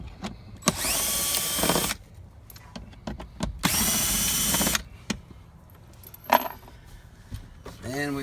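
Power driver with a T15 Torx bit backing screws out of a car's glove box: two loud whirring runs of about a second each, plus clicks and handling clatter in between.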